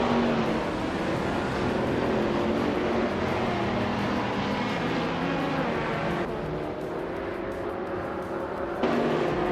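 A Lamborghini Gallardo racing engine in a GTS-class video game race, a steady loud roaring drone with shifting pitch, one sudden gear change or cut partway through and then a quick return to full power.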